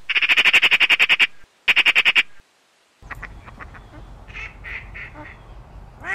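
Two rapid bursts of loud, rhythmic quacking open the scene, then after a short pause softer scattered duck calls sound over a low outdoor rumble.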